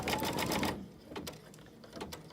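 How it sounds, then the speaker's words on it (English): An embroidery machine sews a placement stitch on an in-the-hoop Christmas stocking, a quick rhythmic tapping that is loudest at the start and then continues more sparsely and quieter. "you can see it's just going to sew a placement stitch"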